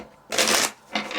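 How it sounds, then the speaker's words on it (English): Tarot cards are shuffled in two quick riffling bursts, close and crisp, with a short pause between them. "If you want to fast forward through the shuffles"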